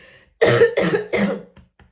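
Three harsh coughs in a quick row, close to the microphone, followed by a couple of faint breaths.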